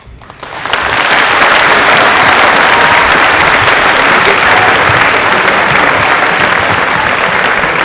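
Audience applause at a Thanksgiving convocation swells in quickly after a quiet moment, then holds as loud, dense, sustained clapping from a large crowd.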